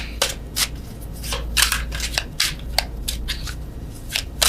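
Tarot cards being shuffled in a love reading, giving a series of brisk riffling bursts and soft slaps spread irregularly over several seconds, close and clear with no talking.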